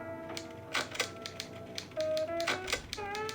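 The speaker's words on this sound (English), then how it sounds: "Mind if I use your hole punch?" A hole punch is pressed repeatedly at a desk, giving a series of sharp mechanical clicks and clacks in an uneven rhythm, close and fairly crisp.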